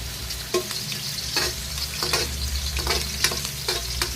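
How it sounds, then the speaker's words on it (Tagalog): Aromatics sautéing in a hot pan as laing is cooked: a steady, bright sizzle fills the whole stretch, with repeated scrapes and taps from a stirring utensil, close-up and with no talking. "so gisa muna tayo guys"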